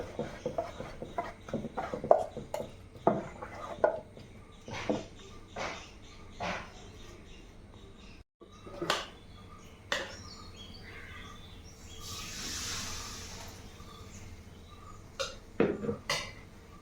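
Palappam, Kerala rice pancakes, being cooked in a pan, with scattered clinks and scrapes of utensils against cookware and a soft sizzling stretch midway, while birds chirp faintly in the background.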